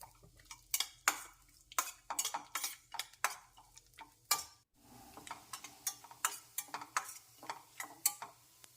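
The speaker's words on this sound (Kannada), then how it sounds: "ಇವು ಗೋಲ್ಡನ್ ಕಲರ್ ಬರೋ ತನಕ ಹುರ್ಕೋಬೇಕು" Dry fruits frying in a pan until golden, stirred with a spoon that scrapes and clinks against the metal in a steady run of sharp ticks and taps, close and alone under a faint sizzle.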